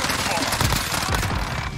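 FAMAS rifle gunfire in the Modern Warfare video game on the Shipment map, a dense, loud rattle of rapid shots filling the whole short stretch.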